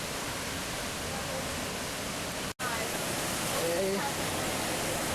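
Storseter waterfall in Geiranger, Norway, roars as a steady broadband wash of falling water, close and loud throughout, with a brief dropout midway and a short spoken word over it.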